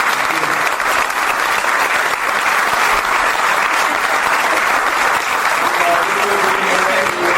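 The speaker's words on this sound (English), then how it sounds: "Donc je vous demande d'applaudir monsieur l'ambassadeur du Nigeria." Audience applause for the Nigerian ambassador at a Nollywood film week event in Paris, loud and steady clapping from a crowd that continues without a break.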